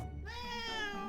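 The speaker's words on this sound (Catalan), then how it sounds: "Aquest és el meu gat Andròmina." A pet house cat gives one long, clear meow up close after a brief moment of quiet, with no other sounds around it.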